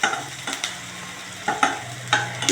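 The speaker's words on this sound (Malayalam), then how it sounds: "സമയത്ത് നമുക്ക് തക്കാളി ചേർക്കാം" Tomatoes go into onions frying in ghee for Bombay chutney, with a steady close sizzle broken by a few sharp stirring scrapes about every half second to second.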